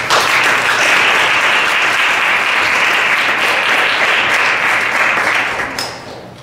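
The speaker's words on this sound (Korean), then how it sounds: "목사님 나오실 때 큰 박수로 환영해 주시기 바랍니다." A church congregation at a Thursday worship service applauds to welcome the pastor: dense, sustained clapping from many hands that holds steady for several seconds, then tapers off near the end.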